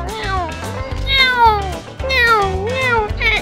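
Several cats yowl and meow in a GTA game, giving long, rising and falling cries in a steady series over continuous low game background noise.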